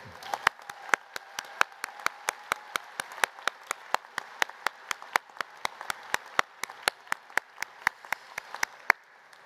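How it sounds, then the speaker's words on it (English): At a university graduation ceremony, a single steady clapping pattern sounds as sharp, evenly spaced claps, roughly three per second, close and crisp over a faint room background, ending abruptly near the finish. "let's give them a round of applause as well"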